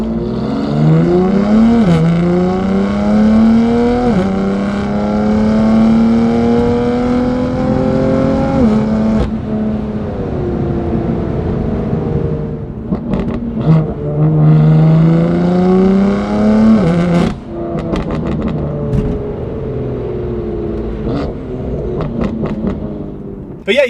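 A BMW M4 GTS with an S55 engine and an Active Autowerke equal-length exhaust revs and accelerates loudly, its pitch climbing through gears in long pulls, close and unbroken, with brief lifts between runs.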